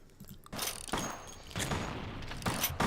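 Bursts of enemy gunfire in the video game Vampire the Masquerade Bloodlines, several sharp volleys and rattling shots at moderate-low level, scattered across a few seconds.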